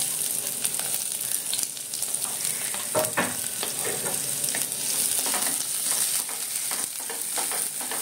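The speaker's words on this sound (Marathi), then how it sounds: "कांदा परतायला सोडून देऊया" Half an onion sautéing in a pan after golden-browned fish pieces for a spicy Maharashtrian modak fish curry, loud steady sizzle with occasional stirring scrapes and clinks, nobody speaking.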